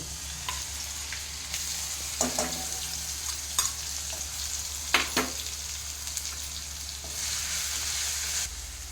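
Garlic, ginger and green chili paste sizzles in hot oil with cumin and curry leaves, a steady close frying hiss with a few sharp clinks and scrapes of stirring, no voices.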